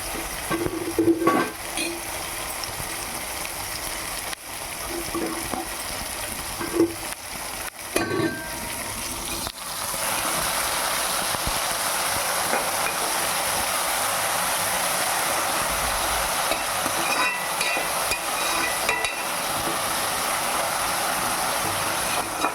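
Chicken fries with onions in a pan and is stirred now and then. A loud, steady sizzle runs throughout, broken by clinks and scrapes of the spoon against the pan, especially early on.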